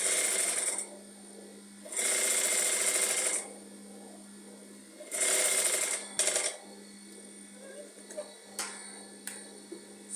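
Sewing machine stitching the upper parts of an off-shoulder turtleneck together, running in two loud, steady bursts with a pause between them, then quieter handling and small clicks at the close.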